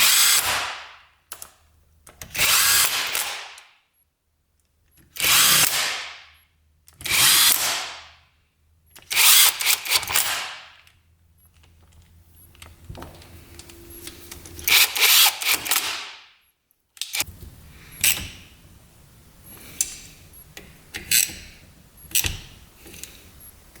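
Power tool driving bolts into a 1980s dirt bike's engine cases, in a series of short, loud, whirring bursts separated by pauses, with quieter mechanical clatter and handling between them toward the end.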